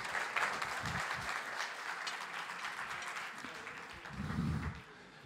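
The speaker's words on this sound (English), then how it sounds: "One applause." A conference audience at a financial services summit applauds panelists, a steady, moderately distant wash of many clapping hands lasting several seconds before tapering off.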